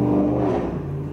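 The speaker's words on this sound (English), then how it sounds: "person's car is super loud" A loud car drives past outside with a brief revving engine rumble, fairly close, and no talk over it.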